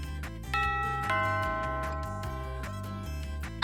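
A doorbell chimes indoors as a sushi delivery arrives, a clear, sustained ding-dong tone sounding alone with a ringing decay and no talk.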